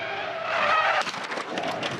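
Loud, sustained tire screech from a Supercars race car locking up under hard braking, with engine noise and some clattering in the last second.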